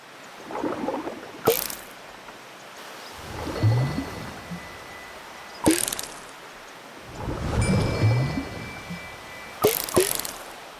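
Four sharp splashy fish-catching sounds from a boat video game, spaced a few seconds apart, each trailing into soft bubbling and gentle wave-like washes.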